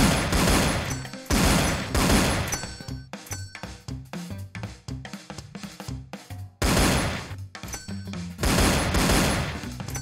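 Sustained automatic gunfire from an assault rifle in the shooting game Gangster War, loud dense bursts broken by short pauses and single shots, with faint clinks between volleys and no talking.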